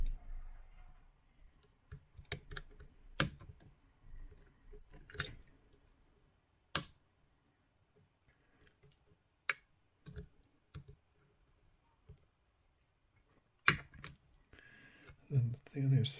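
Picking a Medeco M3 lock brings sparse, sharp little clicks from the pins, scattered irregularly across near-silence, with a low voice murmuring faintly now and then.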